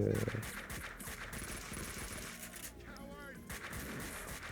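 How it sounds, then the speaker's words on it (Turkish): Shotgun blasts and gunfire from the video game Max Payne 2, sharp reports mixed into game sound effects at moderate level, brief and clustered over a few seconds. "O alan adam pompalıyla sıkıyor kafama."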